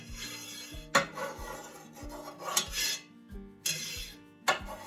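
A long knife slices fresh mozzarella curd into a grid, giving a series of soft scraping strokes and light metallic taps against the pot, close and quiet.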